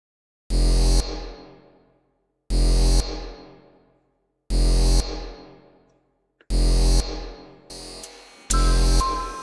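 A loud electronic tone sounds five times at steady two-second intervals, each beep cutting off and leaving a brief decaying ring.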